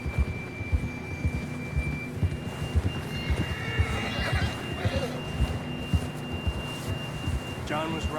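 In a snowstorm in the Red Dead Redemption 2 video game, a horse's hooves clop in a steady rhythm under wind noise, with a whinny partway through and another near the end.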